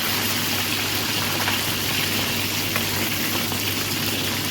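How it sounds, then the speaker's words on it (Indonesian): Fish frying in a pan of hot oil, a steady dense sizzle with faint crackles running unbroken and close throughout, no voices. "goreng lagi ya sampai kering."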